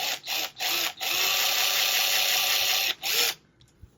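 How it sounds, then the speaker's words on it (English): An electric drill works a hole in a guitar kit body, whining steadily in several bursts with brief stops between them, close and fairly loud, then dropping to quiet handling noise at the end. "what we're going to do is going to drill that hole out a little bit"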